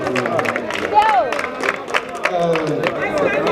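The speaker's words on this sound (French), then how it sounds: "j'aimerais que vous applaudissiez" A concert crowd claps and cheers in a loose, short burst under babble and voices, with a whistle-like rising tone cutting through partway.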